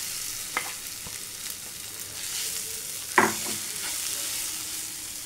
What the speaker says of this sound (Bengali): এবার এটাকে ভালো করে মশলাটাকে মেখে নিই, ভালো করে নেড়ে নিই।